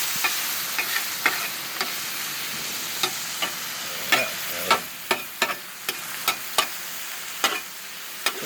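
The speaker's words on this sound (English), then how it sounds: "Look at the mushrooms, how sauteed they are." Mushrooms sauté on a Blackstone griddle for fried rice, giving a steady soft sizzle broken by scattered sharp scraping clicks of a spatula on the flat metal surface.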